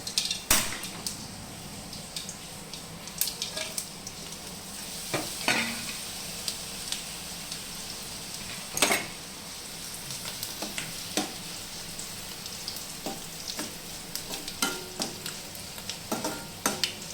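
Dried red chillies and pappadam fry in oil for an idiyappam upma, a constant hiss punctuated by intermittent stirring scrapes and metallic pan clinks, close and moderately loud, with no talking.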